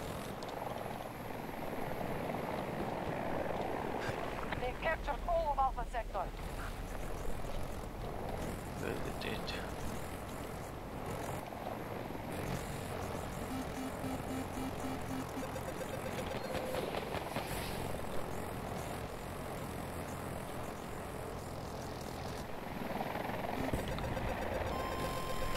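Attack helicopter in the video game Battlefield 2042, a steady rotor and engine drone running throughout amid gunfire and game noise, with players talking over it.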